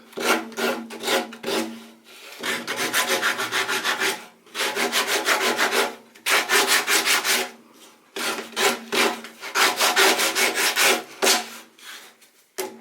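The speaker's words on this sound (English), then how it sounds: "Just take the edges off with a bit of sandpaper." Steady back-and-forth rasping of sandpaper on softwood edges comes in several bursts with short pauses between them, close and fairly loud.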